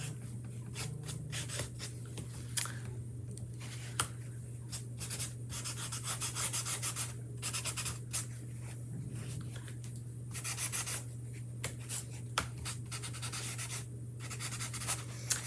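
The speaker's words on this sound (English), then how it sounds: "To kind of apply it and rub it off at the same time, or buff it." Wax being rubbed and buffed into a chalk-painted surface with a cloth, a long run of soft scrubbing, swishing strokes in uneven bursts, close up over a steady low hum, with no talking.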